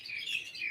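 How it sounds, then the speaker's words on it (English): Springtime songbirds chirp in bright, high whistled phrases, clear and moderately loud, with no talking. "the birds are so happy and excited this time of the year"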